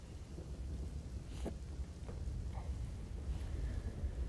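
Heavy downpour in the Khakhar area of Kutch, Gujarat: a soft, continuous hiss of rain with a few faint rumbling bursts mixed in, heard from a distance.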